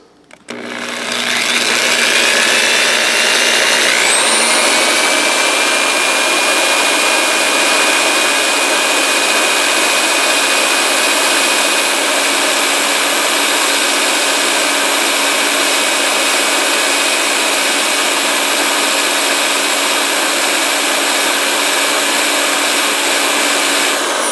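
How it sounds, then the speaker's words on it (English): An electric drill whirs up to speed and keeps running at a loud, steady high pitch, with continuous abrasive grinding of 200-grit sandpaper on a coin ring beneath it for the whole stretch. "Starting with the 200 grit, hold it at an angle, start my drill, and go around"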